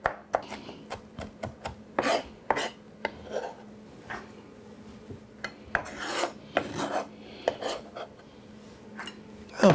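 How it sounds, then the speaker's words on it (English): Vinegar-soaked jalapeno peppers chopped with a knife, a spoon also used, for a vegan Hanukkah meal: a close, irregular string of sharp taps and scraping cuts with brief pauses and no talk. "And we're just going to chop these."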